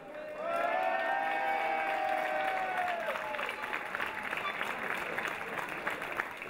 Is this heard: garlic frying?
no